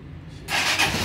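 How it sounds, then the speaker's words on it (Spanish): A Tekken 250 motorcycle with a freshly cleaned carburetor and new spark plug cranks and then catches, breaking into a loud, steady idle heard close by. "Esperemos que arranque la motocicleta."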